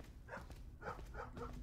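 Dog barking from the video game Like Clay, a few short yaps spaced across the moment, quiet and set against a low steady game background hum.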